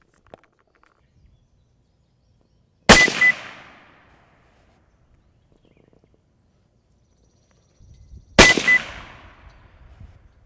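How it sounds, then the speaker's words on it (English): Two loud, sharp rifle shots fired at a target on an outdoor range during zeroing of a Zeiss Conquest V4 scope, spaced about five seconds apart, each with a ringing decay and no talking. "I'm going to go ahead and put in another cartridge and see how close we are to the lower orange bullseye."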